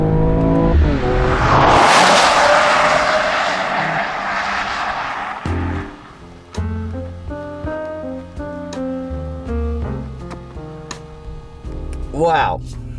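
A 2019 Mercedes-AMG CLS53 sedan's engine roars hard through a corner, a loud rising surge of noise that fades, then gear-change steps and revving follow, with a brief tire squeal near the end.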